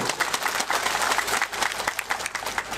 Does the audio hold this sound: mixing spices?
no